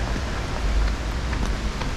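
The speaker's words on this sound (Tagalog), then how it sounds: "Ayan, umuulan." Rain pours steadily, a close, dense hiss with low rumbling underneath and occasional heavier patters.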